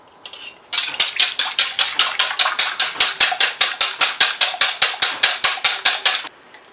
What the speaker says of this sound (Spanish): Aquí yo tengo la clara de los tres huevos. Lo que voy a hacer en este momento, lo voy a batir muy bien.